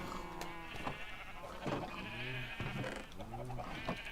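Sheep in Minecraft bleat several times in wavering calls, some overlapping, against a busy background with a voice speaking between them.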